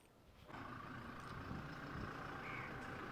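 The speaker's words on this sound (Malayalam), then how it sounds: "വണ്ടി നമ്മൾ സ്റ്റാർട്ട് ചെയ്തിട്ടുണ്ട്." A brand-new Toyota Innova Crysta 2.4 Z automatic engine starts after a brief quiet moment, then settles into a steady, moderately loud idle hum that carries on to the end.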